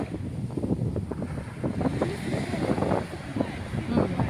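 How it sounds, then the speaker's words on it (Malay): Steady roar of wind and strong surf at Marang Beach, Terengganu, Malaysia, with rough gusts buffeting the microphone throughout. "Ombak sangat kuat."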